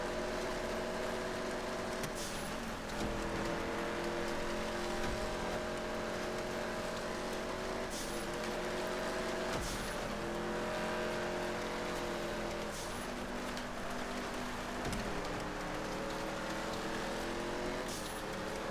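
Engine whine from a race car in GTA 5 on a snowy track climbs and drops through repeated gear shifts, a continuous loud drone with brief dips between gears.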